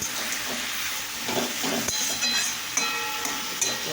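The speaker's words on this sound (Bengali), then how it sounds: "এই যে বড়িটা ভাজছিল" Bori lentil dumplings fry in a pan, giving a steady, close sizzle and hiss with a few soft clinks, and no voices.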